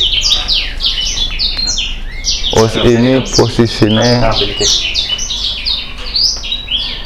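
Small caged birds kept for breeding in an aviary chirp and tweet in rapid, overlapping bursts close by, continuing throughout while a person speaks briefly in the middle.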